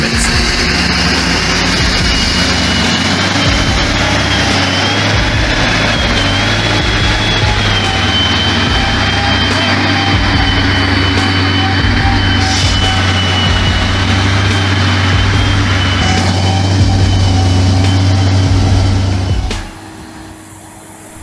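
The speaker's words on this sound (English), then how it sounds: "The truck slid backwards with the engine roaring and dust flying into the sky." A heavy timber truck's engine roars steadily as it strains up a forest hill, a loud, continuous low drone that runs for about twenty seconds before cutting off abruptly near the end.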